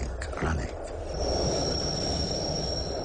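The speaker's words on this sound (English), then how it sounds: "The trains were running," A running train, with a brief burst of clattering wheel sounds at the start giving way to a steady rumble and a thin high squeal that sustains to the end, loud and with no talk.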